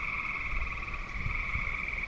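Frogs croak steadily in a garden after a rainstorm, a dense continuous chorus at moderate distance with faint wind and background rustle underneath.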